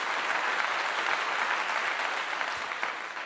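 Steady, dense applause from a crowd, continuous and fairly even throughout, with no voices standing out above the clapping.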